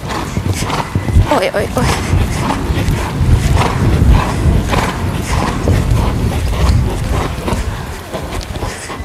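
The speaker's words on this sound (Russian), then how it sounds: "Лошадь у меня немного убегает после препятствия." A show-jumping horse canters away after clearing an obstacle in a training session, its hoofbeats thudding in a steady rhythm close by, while a rider's voice exclaims briefly over the hoof sounds.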